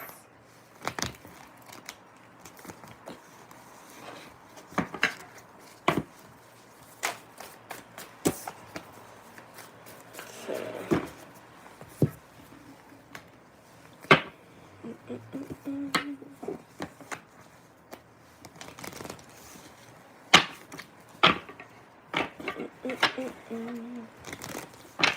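Tarot cards being shuffled by hand during a pick-a-card reading, a long run of soft riffling, sharp snaps and scattered taps, close up and fairly quiet, with occasional brief pauses.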